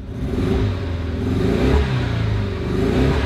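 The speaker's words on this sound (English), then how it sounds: "when you rev it up, you can tell it's not right" A modified used car engine revs close by, running rough with an uneven, lumpy drone that rises and falls, with clattering through the revs.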